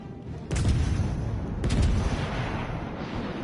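Warship main guns firing salvos in the naval game World of Warships Legends, two heavy booming blasts about a second apart, each rolling into a low rumble, loud and close.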